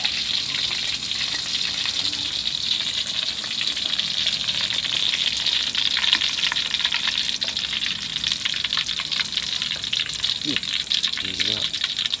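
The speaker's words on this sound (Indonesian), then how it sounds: "yang tengah goreng itu lah lauk ikan kuning" Yellow fish frying in a pan for a village meal, with a dense, continuous hiss and sizzle that stays loud and steady throughout.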